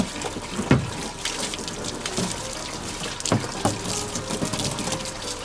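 A garden hose rinses down a campervan dump point in Australia: steady splashing, hissing water close by, broken by a few sharper splatters as the stream hits the ground.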